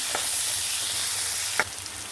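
Curry leaves and a green chilli sauté in hot oil in a pan, giving a steady close frying sizzle with a couple of brief scraping knocks from stirring.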